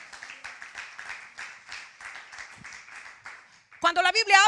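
A church congregation claps steadily in a large room, a dense patter of many hands, then a voice cuts in loudly over the applause at the end.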